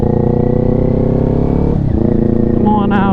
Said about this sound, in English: Nice crispy downshifts.